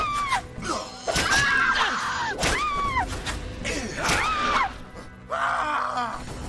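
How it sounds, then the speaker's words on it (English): Geralt screams in the 2007 video game The Witcher, letting out several loud, pitched-bending yells and groans in a rapid series amid game sound effects. "Geralt's scream is hilarious."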